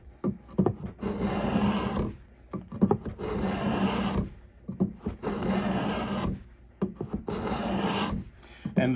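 Stanley 66 hand beader cutting a bead into wood, heard as repeated rhythmic rasping strokes, each about a second long, close and fairly loud, with short pauses between passes and no talking.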